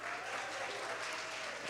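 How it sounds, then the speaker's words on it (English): Audience applause at the KZNSA venue during a Poetry Africa show, a steady even wash of clapping hands, moderately distant and sustained without pause. "give a big round of applause to the venue of KZNSA for hosting us today"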